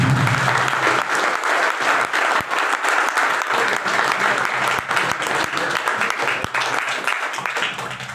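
A seated audience at a company event applauds loudly and steadily to welcome a guest onto the stage, with dense continuous clapping throughout and a faint voice underneath.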